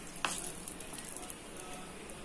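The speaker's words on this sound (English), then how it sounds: "saute the cashews and raisins with 2 tablespoons of ghee" Cashews and raisins sautéing in two tablespoons of ghee give a steady, moderately quiet sizzle, with one brief clatter near the start and no talking.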